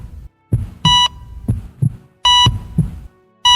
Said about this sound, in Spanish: Monitor cardíaco que nadie había encendido. Y a cada bip, el infierno tembló.